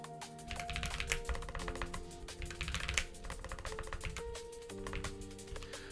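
Rapid, uneven keystrokes clatter on a computer keyboard during programming work, close and continuous with small pauses, over a low steady background hum.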